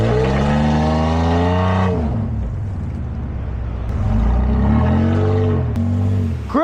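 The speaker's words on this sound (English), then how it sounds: "Yeah, start giving it a little bit of gas. You gotta start giving it some gas." A car engine revs hard as the driver gives it gas while stuck, loud and close, with a strained drop in pitch partway through and then surging revs again, no talking.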